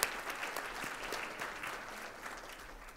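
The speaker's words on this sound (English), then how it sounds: "yes, give them a round of applause." An audience at a State of the City event applauds, a dense, quiet wash of many hands clapping at once that gently tapers over three seconds.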